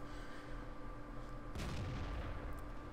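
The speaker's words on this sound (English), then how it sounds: "But I fire and do some damage into the side of the M6" A Black Prince British heavy tank fires its gun in a tier 7 tank battle game, one loud, close boom about halfway through that rolls into a rumbling tail over a steady engine drone.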